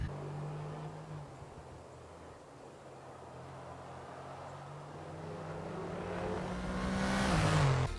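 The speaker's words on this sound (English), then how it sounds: "The Aston Martin safety car is quite slow" The Aston Martin safety car in the F1 22 video game drives with a low steady engine drone that swells and rises in pitch toward the end as it accelerates, fairly quiet and alone.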